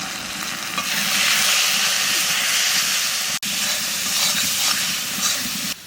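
Ground cumin, coriander, dried chili powder, turmeric and salt fry for dal fry, making a loud, continuous close sizzle and hiss with faint stirring, briefly dropping out once.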